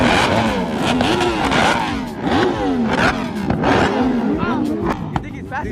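Loud Nissan Skyline GT-R revving hard with a two-step launch limiter at a crowded car meet, repeated rising and falling engine roars with popping bursts, people talking over it throughout.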